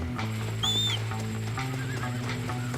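A horse whinnies in the video game Red Dead Redemption, a short high neigh over steady game music and ambience, with faint hoof clip-clop nearby.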